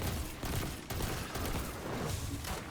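Dense, rapid gunfire in Destiny's Lake of Shadows strike pours out nonstop as acolytes are shot, loud and close, with short breaks in the stream.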